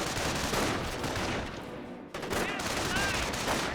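Rifle squad gunfire in a Company of Heroes battle against Grenadiers: dense overlapping rifle and machine-gun bursts crackle continuously, briefly dipping midway before resuming, with a voice talking under the fire.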